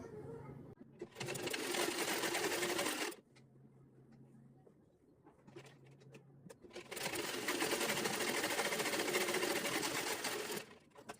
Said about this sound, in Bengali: এটা যেভাবে সেলাই করলাম আমরা অপর আরেকটা সালোয়ারের পায়ের মুহুরিও ঠিক এভাবে সেলাই করে নেব।